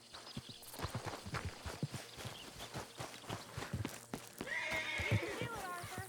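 A horse in the Red Dead Redemption 2 video game walks with steady clip-clop hoofbeats, then gives a clear whinny near the end, with a voice talking faintly underneath.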